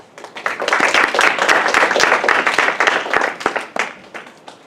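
A lecture audience applauds steadily at the end of a class, a dense wash of many hands clapping that holds for several seconds and then fades out.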